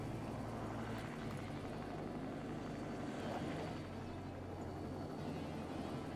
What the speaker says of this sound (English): Helicopter's coming in.